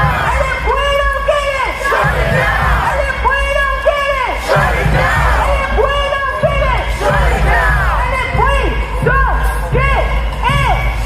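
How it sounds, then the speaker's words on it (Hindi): Crowd of protesters in the United States shouting and chanting against war with Iran, a dense sustained roar of many yelling voices in repeated rising bursts, loud and continuous throughout. "अमेरिका के लोग सड़कों पर उतरकर ट्रंप के खिलाफ प्रदर्शन कर रहे हैं और चीख चीख कर कह रहे हैं कि उन्हें ईरान से जंग नहीं चाहिए"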